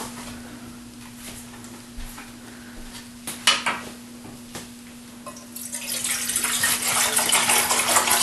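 A saucepan is set down with faint clinks in a kitchen, then tap water starts running into it and swells into a steady, rising hiss and splash, with a low electrical hum underneath.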